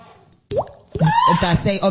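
A voice imitates a water drop splash, giving a short plopping pop followed by a wet vocal burst. Speech-like voicing sits close and clear against near silence.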